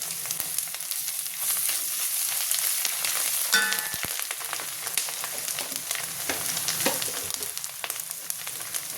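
Ginger and garlic paste frying in hot oil for a mutton curry, a steady close sizzle with a few sharper spatters and stirring scrapes partway through, no voices.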